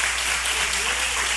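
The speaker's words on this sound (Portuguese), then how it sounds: "Pode aplaudir Jesus" A church congregation claps together in a brief, even burst of applause, close and full, lasting just over a second.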